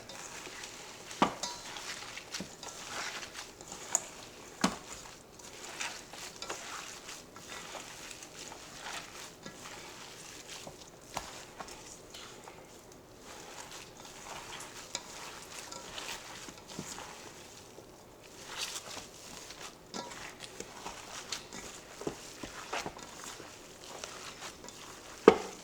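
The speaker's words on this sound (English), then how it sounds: "And then mix it all together." Meatloaf ingredients seasoned with salt get mixed together in a bowl, giving faint, soft squishing and scraping with a few sharp clicks against the bowl, close and quiet with no talking.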